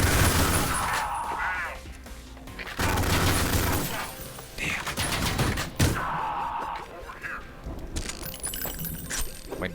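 Shots and combat effects in the retro shooter Ion Fury, a string of loud blasts and clattering impacts spread through the stretch, with some quieter moments between bursts.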